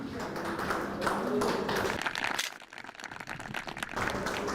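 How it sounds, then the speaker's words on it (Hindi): Crowd clapping welcomes a contestant at a farmers' quiz programme on agriculture and animal husbandry, a busy broadband patter that dips briefly midway before picking up again, mixed with some voices. "तो यहाँ जोरदार तालियों से देव जी का स्वागत कीजिए"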